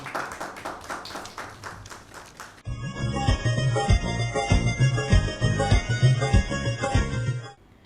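A crowd at a poetry gathering marking Pakistan's Independence Day claps briskly and steadily for a couple of seconds to welcome a poet, then music with strong percussion takes over.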